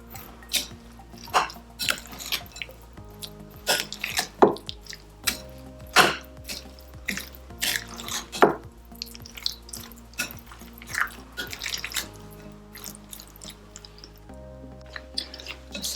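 Pomelo salad with chopped chilies being tossed and mixed by hand, soft wet squelches and light taps in an irregular rhythm, close and fairly quiet, with background music throughout.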